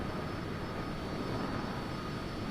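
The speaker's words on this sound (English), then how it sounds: "I thought I heard a jet." Steady broadband roar of a jet aircraft passing in Microsoft Flight Simulator 2020, a continuous engine rush with a thin high whine on top, holding even and fairly loud throughout with no voices.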